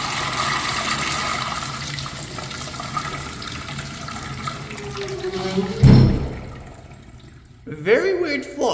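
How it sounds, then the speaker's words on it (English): A 1980s–1990s Crane Manhattan urinal with rim jets flushes in a rushing wash of water that swells, then surges and drains away, with someone talking over parts of it. "Let's have a look at a flush."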